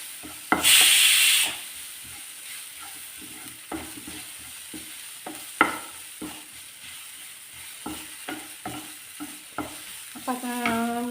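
A spinach and dal curry is stirred in a pan, opening with a loud burst of frying sizzle and then settling into repeated scraping stir strokes over a steady low hiss, close by with no voices.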